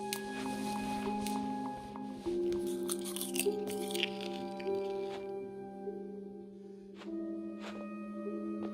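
Crunchy biting and chewing from a character eating in What Remains of Edith Finch, a run of close, crisp crunches over a sustained musical tone, fading then resuming near the end.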